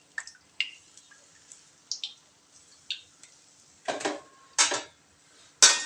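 Water dripping and splashing as soaked rice is squeezed by hand, a series of irregular close drips and small splashes that grow louder toward the end, with no talking.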